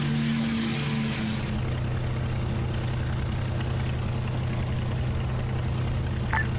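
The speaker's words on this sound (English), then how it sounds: "You can hear that plane coming in now." A propeller plane approaches in a World War I-era trench combat video game, its steady droning engine hum loud and continuous, with a brief higher whine near the end.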